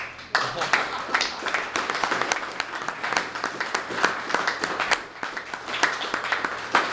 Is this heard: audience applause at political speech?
yes